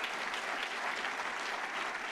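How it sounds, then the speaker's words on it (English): An audience in a room breaks into steady, dense applause at a leadership program event, with many hands clapping evenly throughout and no break. "Round of applause, because many of you are here in the room tonight."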